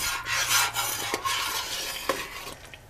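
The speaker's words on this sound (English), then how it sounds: "Stir it real good" A spoon scrapes and swirls through summer berry jam in a pot just off the boil, giving close, uneven stirring strokes with a few sharper clicks against the pot, with no voices.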